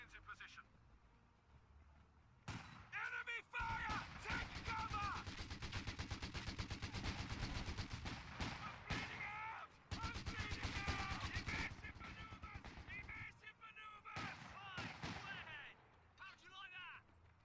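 Sustained Vickers machine gun fire in a World War II Battle for Caen wargame near Bretteville, rapid dense bursts running almost continuously, with short breaks and other battle noise and shouting voices mixed in.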